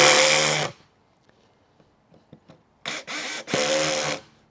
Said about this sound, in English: These are 1 1/4 inch lathe screws, and I'm going to drive them through down into the block.